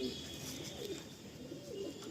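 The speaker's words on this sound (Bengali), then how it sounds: "পায়রাটা আমি দেখাই, এটা হচ্ছে মেল, বাঁহাতে ফিমেল" Pigeons coo steadily in a loft of Andhra Lalsira and Lambadi Fulsira birds, a continuous low warbling murmur from several birds with faint chirps over it.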